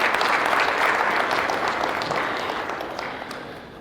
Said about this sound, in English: I think His Excellency deserves a round of applause for that.